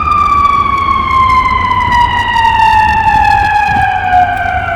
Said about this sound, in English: I'm gonna let this ambulance go by.